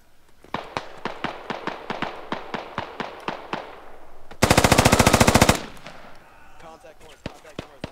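Gunfire in the Squad game Operation: Crazy Horse, opening with a steady series of single shots that give way to a loud, rapid machine-gun burst, then scattered shots trailing off, close and sharp.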